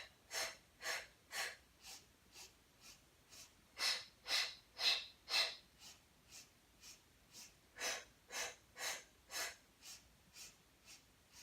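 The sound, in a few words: breathing during abdominal workout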